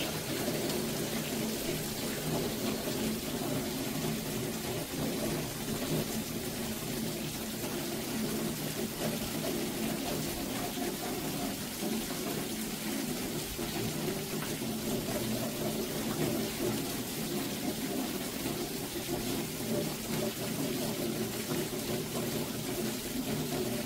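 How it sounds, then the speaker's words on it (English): Heavy Arizona monsoon rain pours steadily during a 2024 storm, a dense, constant wash of water with no clear thunder and no voices. "this is Arizona monsoon season. This is a lovely rain."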